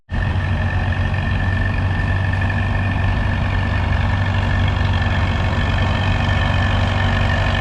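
A vintage Chamberlain 9G tractor, made in Welshpool, Western Australia, idles at a tractor pull practice day in Korumburra. Its steady, loud low engine drone is joined by a constant higher whine, and no one talks.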